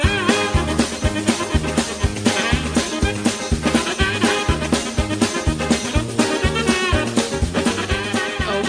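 The Benny Hill show theme plays as fast, bouncy music with a loud, steady oom-pah bass pulse and busy bright melody, dense and continuous for several seconds.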